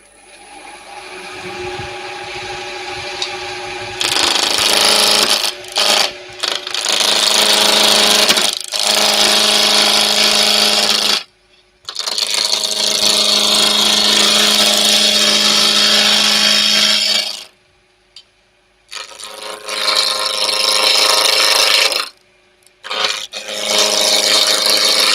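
A wood lathe spinning at about 1500 rpm while a half-inch Robert Sorby bowl gouge cuts ripple olive ash for a small box, producing loud hissing, scraping cuts in long passes separated by short quiet pauses.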